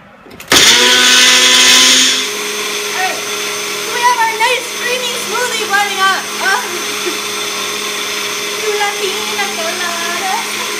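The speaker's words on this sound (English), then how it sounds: "Then you can follow me over to the blender." A countertop blender whirs loudly for about two seconds as it blends a breakfast mix, then the motor stops and a person talks in a kitchen over a steady background hum.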